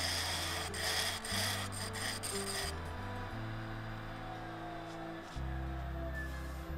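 A laminated mallet of Australian hardwoods spins on a woodturning lathe while a tool cuts a taper, giving a steady scraping hum with a low drone that shifts pitch several times, close and continuous.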